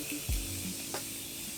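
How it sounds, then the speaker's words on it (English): A Morphe Continuous Setting Spray bottle gives a couple of brief, soft misting hisses, quiet and close, against a faint background. "I'm gonna take this Morphe Continuous Setting Spray."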